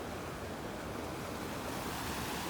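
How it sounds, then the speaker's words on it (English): A mountain stream in the upper Fryatt valley roars steadily and close, a dense, unbroken rush of water with no voices. "Look at all this water coming out of nowhere."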